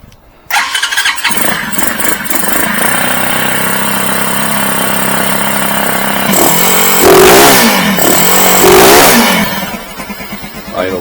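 A CG Chinese motorcycle engine fitted with a Nibbi PWK carburetor starts without choke and settles into a loud, steady close-up idle, then revs up twice in rising sweeps before dropping back to a lower idle.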